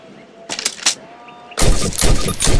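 Call of Duty (2003) training range, with a quick rifle shot cluster early, then heavy sustained gunfire at a target that stays loud and close until the end, no talking.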